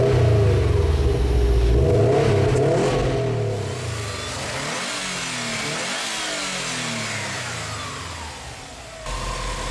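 A 2017 Subaru WRX STI with a 2.5-liter turbocharged engine, six-speed gearbox and quad stainless steel exhaust outlets revs loudly and continuously up close, its pitch rising and falling through repeated throttle blips.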